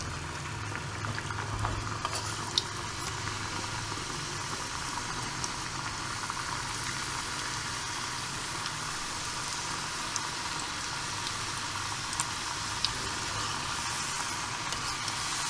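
Kalakala sweet dough frying in oil over a low flame, a constant soft bubbling hiss with faint occasional pops and no voices.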